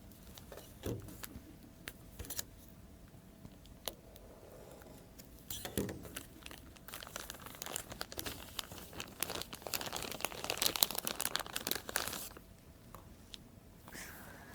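A packaged injector valve assembly for a 120 series injector is opened, with soft crinkling and rustling of plastic and paper packaging, quiet and close, growing busier and denser toward the end.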